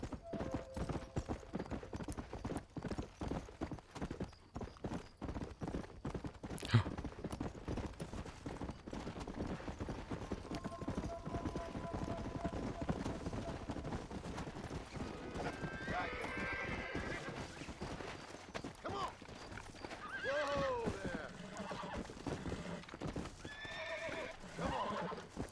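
Horse hooves clip-clop at a gallop with repeated neighs and whinnies in the Red Dead Redemption video game, a steady rhythmic beat at moderate loudness with some game ambience and occasional talk over it.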